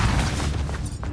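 A Depulso force-push spell from the video game Hogwarts Legacy lands as a continuous low booming blast that fills the whole moment, dense and rumbling with a slight fade near the end.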